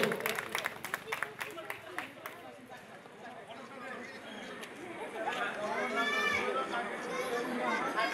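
Audience applause at a village Durga Puja inauguration, a scattered crowd clapping that builds and continues under murmured chatter after a few sharp claps from a nearby voice.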